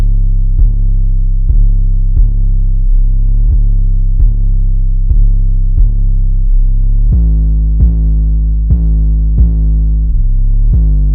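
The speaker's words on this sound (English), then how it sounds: "Then we have this 808 coming in." Deep, booming 808 bass notes from a track hit in a steady repeating pattern, each with a sharp attack and sustained low tail, loud and alone.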